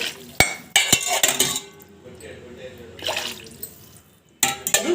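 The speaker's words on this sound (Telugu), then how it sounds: "మూడు గ్లాసులు వాటర్ని పోసుకుందాము" Water splashes into a metal pot in short bursts while cooking mutton biryani, mixed with clinks and knocks of cookware close by.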